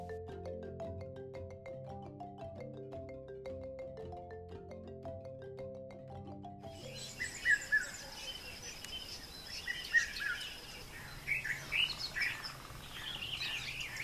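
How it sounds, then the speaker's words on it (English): Weaver birds and other birds chirp and call around a lake camp in Tanzania, the busy overlapping calls rising after a stretch of soft tonal music, with sharp near chirps standing out in the second half. "Many mornings we woke up to the melodic call of birds"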